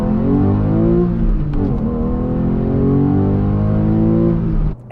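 Porsche 911 engine revving hard toward high RPM, a loud, sustained rising mechanical roar close to the microphone with pitch sweeping upward, then cutting off abruptly at the end as if for a gear shift.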